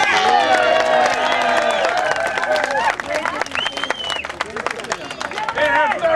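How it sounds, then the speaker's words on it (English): A crowd at a medieval polearm duel breaks into loud applause and cheering for a fighter, with bursts of clapping under shouting voices and crowd chatter. "Give him a round of applause for his chivalry."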